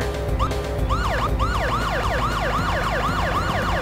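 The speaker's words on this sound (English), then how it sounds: "Why are you putting on your sirens?" A wailing siren sweeps up and down rapidly and repeatedly over a low engine drone, loud and close, from a police car in the PS1 game Parasite Eve.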